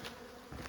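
Faint honey bee buzzing over a low hum, with a couple of brief louder swells as one passes close.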